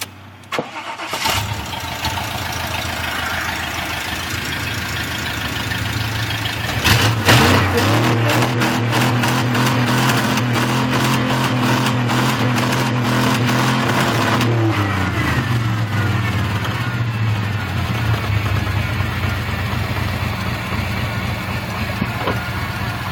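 A truck engine cranks and catches, idles, then is revved hard and held near its 5,000 RPM redline for several seconds before dropping back to a steady idle, loud and close throughout.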